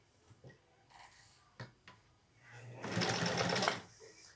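A sewing machine stitching fabric during a home sewing lesson: a few soft clicks and taps, then a loud close run of rapid whirring stitches for about a second before stopping.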